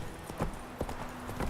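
Horse hooves clip-clop in The Witcher 3 video game, a few soft, faint hoofbeats spaced unevenly.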